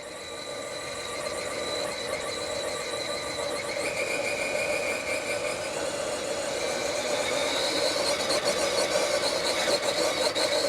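An RC crawler's electric motor runs steadily at roughly 80% throttle, giving a continuous mid-pitched whine with a faint squeal. It stays even and fairly close throughout, with no talk.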